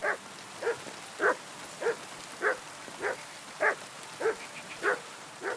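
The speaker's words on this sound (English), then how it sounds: "What are you barking at, dog?" A dog barks about ten times at a steady, even pace in the medieval game Kingdom Come: Deliverance II, moderately near over a constant rain-like hiss.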